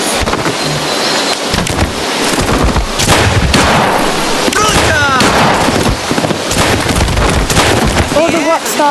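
Explosions and gunfire in a VR video game, a dense barrage of loud booms and rapid shots that fills the whole stretch, with voices mixed in.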